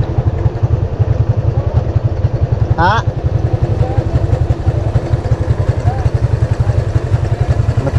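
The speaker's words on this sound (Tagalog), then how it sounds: "Matibay itong motor na to, yung sinaunang barako to mga kautol." An old Barako motorcycle engine runs steadily up close, a low, even putter that continues throughout, with a short voice heard over it partway through.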